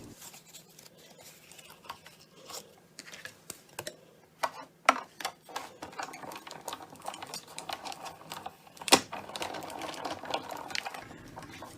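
A hand-cranked die-cutting machine rolls a plate, stencil and paper sandwich through its rollers, producing a series of uneven clicks, ticks and clattering knocks that grow busier toward the end.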